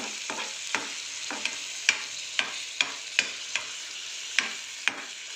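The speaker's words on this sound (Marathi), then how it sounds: "याला चांगला आता मिक्स करून घेऊया" Spicy fried idli is tossed with garam masala, coriander powder and fresh coriander in a pan, with a soft sizzle under evenly spaced spoon scrapes and taps, about ten strokes, close and moderately quiet with no talking.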